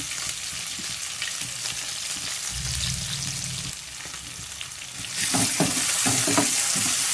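Onion and green chilli pieces with curry leaves fry in oil, giving a loud, steady sizzle with stirring scrapes, and the sizzle grows brighter and more intense toward the end.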